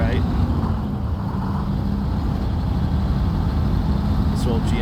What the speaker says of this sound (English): This old GMC is going to pull us through, I think.